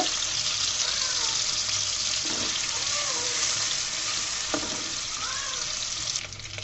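Onions fry in a pan for a bottle gourd and broiler chicken curry, giving a loud, constant sizzle with occasional stirring scrapes close by.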